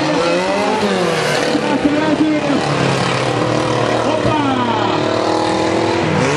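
Rally cars racing past at an event, loud continuous engine roar with shifting revving tones as two cars drive by close, under excited commentary talk.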